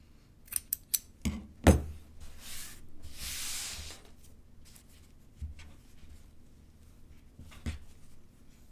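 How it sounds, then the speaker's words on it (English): Scissors snip a few quick cuts to trim excess material from a patriotic twisted snow globe ornament, crisp close clicks in a short cluster followed by soft handling rustles and a couple of later snips. "I'm gonna do a little trim here because I think I had left myself a little too much excess"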